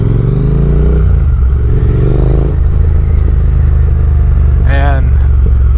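Triumph Thruxton R motorcycle engine running and revving, a loud close rumble with rising and falling pitch sweeps, a brief high whine near the end, and wind noise over it.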